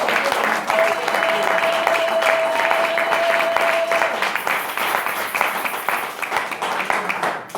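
A church congregation applauding loudly, dense continuous clapping from a crowd that tapers slightly toward the end.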